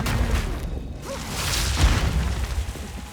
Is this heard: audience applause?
no